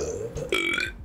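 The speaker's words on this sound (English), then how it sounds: "You can burp on command." A single deliberate burp made on command, short and close, with a low croaky onset that rises into a rougher gurgle before cutting off.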